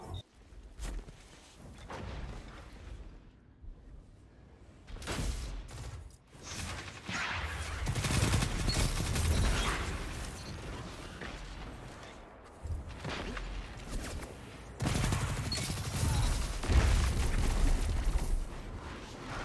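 Gunfire in a competitive video game match comes in heavy bursts of blasts and booming shots, with loud clusters separated by quieter gaps.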